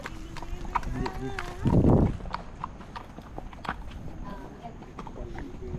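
Horses pass by below, their hooves clip-clopping in a steady run of sharp knocks, with voices and background bustle around them.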